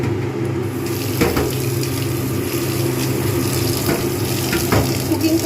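Boiled cauliflower drains and rinses under running tap water, a steady splashing rush in a sink with a few clanks of a pot or bowl, close and continuous.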